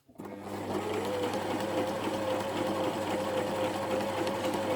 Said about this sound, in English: now I will put my machine on a finer stitch and show you again